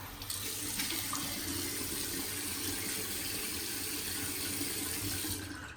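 A bathroom tap runs steadily while a face is wetted before a straight-razor shave, a close, continuous splashing rush of water with no speech.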